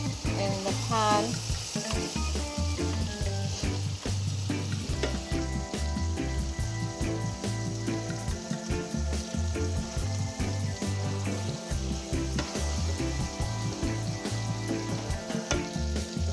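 Steak sizzles and fries in butter in a hot pan, a steady crackling hiss throughout with occasional stirring and scraping clatter from utensils, close and fairly quiet.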